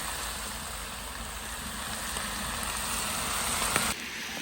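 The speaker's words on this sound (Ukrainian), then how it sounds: "Обжарили цибулю до золотого кольору." Onions sizzling steadily in a frying pan, a continuous close hiss and crackle that carries on through most of the clip before dropping off abruptly near the end.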